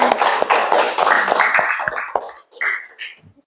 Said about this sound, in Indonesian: Tepuk tangan dong, sayang.